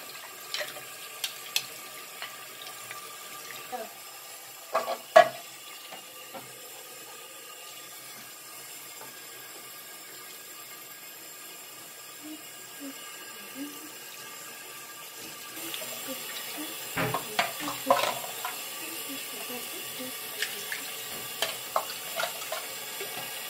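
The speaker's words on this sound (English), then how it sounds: "Now we are going to wash it with the water." Water runs steadily from a tap with a soft hiss, broken by occasional clinks and splashes of washing, louder and busier toward the end.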